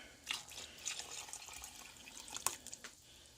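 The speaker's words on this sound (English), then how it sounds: "So I'm just going to add some more water." Tap water splashing and dribbling into a soup pot in a home kitchen, faint and close, with irregular bursts of pouring and a few sharper drips toward the end.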